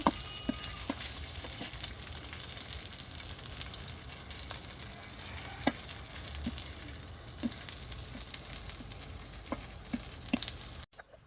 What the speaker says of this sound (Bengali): এখন হচ্ছে পুডি মাছের ছুটকি দিয়ে দিচ্ছি